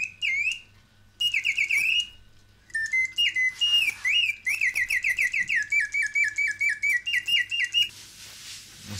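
A mechanical bird automaton plays a canary song: bright, whistled warbling phrases and rapid repeated trills in several bursts separated by short pauses, close and loud over a faint low mechanical hum, with no voices.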